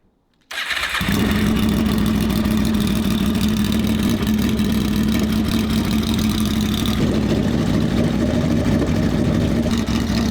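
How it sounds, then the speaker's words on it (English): A Honda VFR800 motorcycle fitted with new throttle bodies cranks and fires up, then settles into a loud, steady, rough idle heard up close. "So we're going to start the bike and yeah, see what happens. It's going to be loud."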